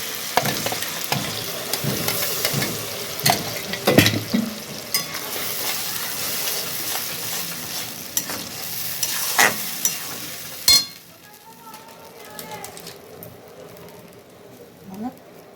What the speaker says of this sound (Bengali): টমেটোটা ভাজা ভাজা হয়ে গেছে, এবার দিয়ে দেবো আমাদের আদা রসুনের পেস্ট